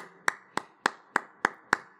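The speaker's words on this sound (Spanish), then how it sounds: "Démosle un fuerte aplauso, hermano," Clapping during a church service: six crisp, evenly spaced claps about every quarter second, close and distinct against a quiet background.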